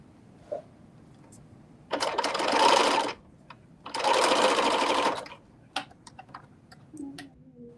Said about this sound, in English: We are serging.